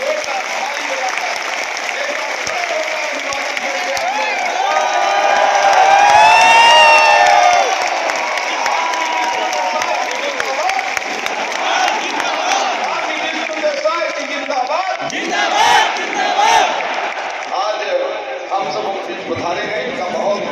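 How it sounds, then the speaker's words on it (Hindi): Audience at a health mission association convention in Chhattisgarh breaking into loud sustained applause and cheering, with whistles, shouts and a swell in the middle, a voice over a loudspeaker talking through it. "जोरदार ताली बजाकर"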